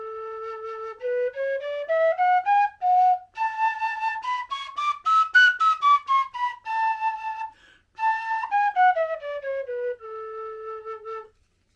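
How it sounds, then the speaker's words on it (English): A tin whistle in A plays a clear, bright scale rising and falling through two octaves, note by note, solo and close. "And then if you compare it to, say, an A whistle, this is also an A whistle from Simon Styles."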